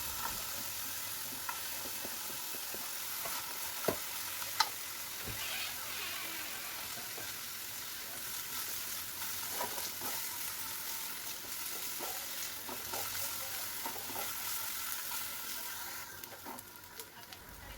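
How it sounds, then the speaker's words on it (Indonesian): Garlic and onion sautéing in oil in a wok, a continuous soft sizzle with stirring scrapes and a few light taps of the spatula throughout. "Lalu kemudian gongso untuk bawang putih serta bawang bombaynya terlebih dahulu"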